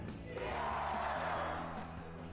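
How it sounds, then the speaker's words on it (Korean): Baseball fans roar in the stands after a hit, a short swelling burst of crowd shouting with a rhythmic chant-like pulse, moderately loud and distant. "응원하는 팀에서 안타가 나오자 관중석에서는 함성이 터지고"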